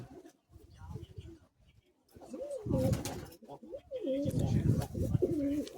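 Old Madras pigeons in a home loft coo in soft, low, rolling bursts that come and go, close by, with voices talking over and between the calls.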